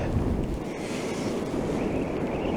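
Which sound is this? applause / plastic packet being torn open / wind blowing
wind blowing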